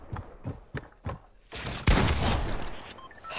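Gunfire in a Fortnite Creative shooting game: a few quick shots, then a louder sustained burst of fire near the end.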